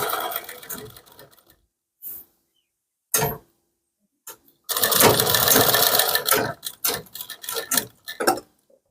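A sewing machine stitches along the edge of buckram in short bursts, stopping and starting, with one long run near the middle and quieter mechanical clicks between.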